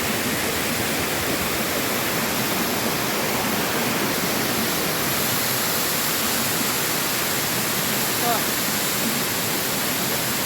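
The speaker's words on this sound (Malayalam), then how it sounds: "പിന്നെ ഇത് 3ാമത്തെ വെള്ളച്ചാട്ടം." Cheru Chakki Chola waterfall in Thrissur, a steady, dense roar of falling water that fills the whole clip at a constant close level, with no voices.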